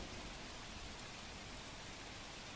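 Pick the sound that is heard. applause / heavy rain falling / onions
heavy rain falling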